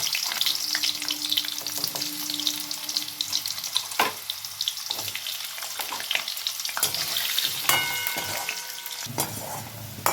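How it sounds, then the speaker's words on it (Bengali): Potatoes sizzle steadily in hot oil in a pan, with a dense crackling hiss throughout, stirring scrapes, and a few sharper clatters near the end. "আলুগুলোকে ভেজে নেব"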